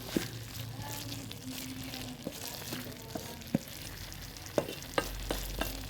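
Cabbage fries on low heat, seasoned with Royco and Simba, giving a soft, close sizzle punctuated by a series of sharp spatula taps and scrapes against the pan.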